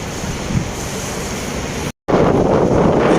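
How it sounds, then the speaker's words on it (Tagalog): Strong wind buffets a microphone outdoors near Doha, Qatar, on a bike ride, a loud continuous rumbling roar that cuts out for an instant and returns even harsher. "Medyo malakas na yung hangin."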